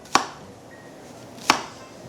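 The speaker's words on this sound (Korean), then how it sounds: "굵기를 비슷하게 썰어서 펼쳐 주신 후에 채 썰어주세요" Two crisp knife strikes on a cutting board, spaced over a second apart, as a zucchini is sliced in a quiet kitchen.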